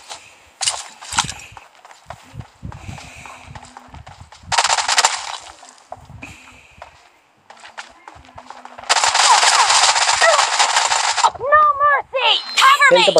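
Thomson submachine gun fire in the BGMI battle royale game comes in short rapid bursts and a long sustained stretch near the end, mixed with other game effects, footsteps and excited voices talking.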